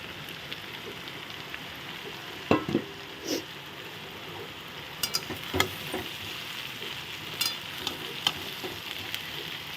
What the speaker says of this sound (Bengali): এখন আমি ভাতটা ঢেলে দিয়ে দিলাম দেখো এখন আমি আস্তে আস্তে নেড়ে দেবো